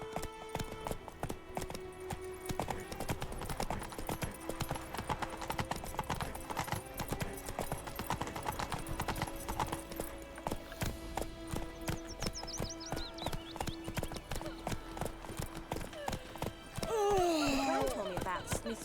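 Roach the horse's hooves clip-clop in a steady, close rhythm in The Witcher 3, with a whinny near the end, while people talk over the hoofbeats.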